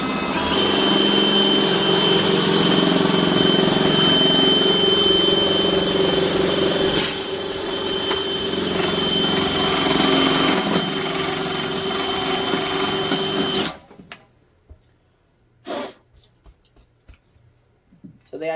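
A power drill bores into a lock, grinding loudly and steadily with a brief dip midway, then stops abruptly, leaving near silence broken by a few faint knocks.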